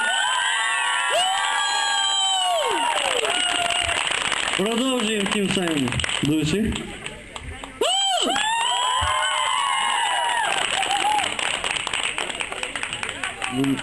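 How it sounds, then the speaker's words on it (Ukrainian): A karaoke contest audience claps and cheers for a young performer, with whoops and children shouting, loud and continuous under a host talking, dipping briefly before swelling again. "Всі дружно аплодуємо."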